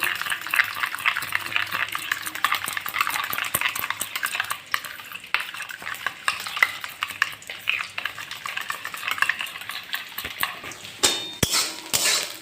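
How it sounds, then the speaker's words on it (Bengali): Yogurt mixed with cumin powder and chili powder being whisked briskly in a bowl, a close, fast, continuous run of wet clicking and scraping strokes, rough and even, with a few sharper knocks toward the end. "এই যে এখানে দইয়ের মধ্যে আমি দিয়ে দিয়েছি জিরার গুঁড়ো আর লঙ্কার গুঁড়ো। এবার এটাকে আমি ভালো করে ফেটিয়ে নেব।"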